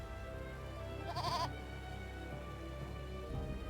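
A goat in the video game Eternal Sonata gives one short bleat over steady background game ambience, fairly faint and brief, with no talk in the clip.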